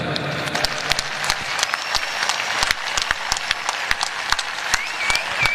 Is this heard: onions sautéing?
no